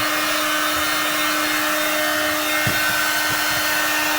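A heat gun blows steadily at close range on an iggee seat cover in a 1992 Corvette, giving a constant whooshing fan roar with a faint whine and a few light knocks.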